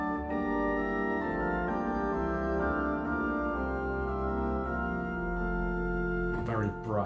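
Two-foot flute stop sounding on the pipe organ of the Bovenkerk in Kampen, Netherlands, layered over lower flute stops in a sustained, steady chord progression that holds loud and even, with a brief change near the end.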